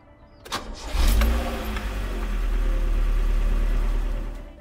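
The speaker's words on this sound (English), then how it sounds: "So it is time to start up the car." A Toyota 4AGE engine in an AE86 cranks briefly, catches with a loud burst of revs, then settles into a steady, rumbling idle close by, with no voices.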